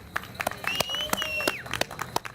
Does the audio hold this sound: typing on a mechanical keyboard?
no